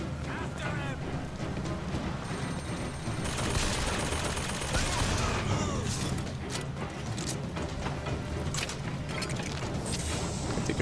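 Automatic turret gunfire in Bioshock Infinite, bursts of rapid shots mixed with game effects and mechanical clatter, fairly continuous and moderately loud, with someone talking over it.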